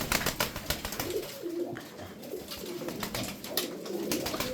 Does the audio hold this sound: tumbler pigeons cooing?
yes